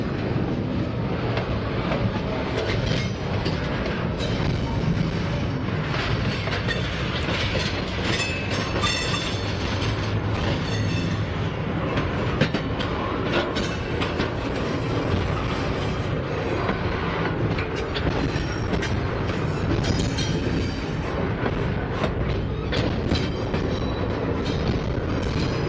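A long freight train of garbage cars rolls past close by, a continuous loud roar with rhythmic clickety-clack of wheels over rail joints and some wind buffeting the microphone.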